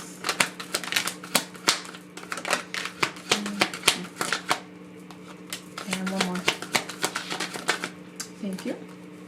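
Tarot cards being shuffled, a run of sharp, rapid card riffles and taps with a steady hum underneath, close and fairly loud.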